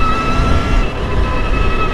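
An electric sport motorcycle, electronically limited to 240 km/h, whines loudly and steadily while being ridden, with its tonal motor hum laid over a broad rush of road and wind noise.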